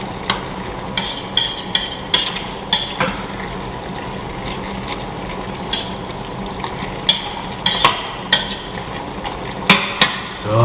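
Chicken paprikash stirred in a pot, a spoon scraping and clinking against the metal in repeated uneven strokes over a low steady simmer, close and fairly loud with no talking.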